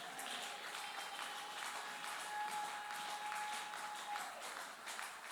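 A church congregation claps in sustained, dense applause from start to finish, steady and fairly loud, with a faint tonal note running beneath it.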